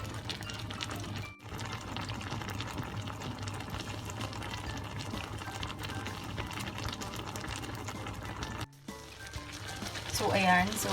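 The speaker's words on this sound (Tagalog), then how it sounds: "Kumukulo na yung ating shrimp in oyster sauce." Shrimp in oyster sauce simmers with a steady bubbling in a pan, continuous and close, with a low hum underneath and a brief pause near the end.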